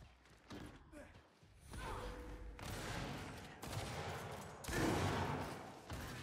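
Rapid bursts of gunfire and thumping impacts in a ranked Control match of the video game Gears 5 come in several loud waves, with a player's voice faintly present.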